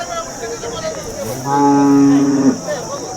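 A dairy cow at a busy cattle market in Sangola, Maharashtra, gives a single loud, drawn-out moo lasting about a second, rising clearly over a steady background of market noise.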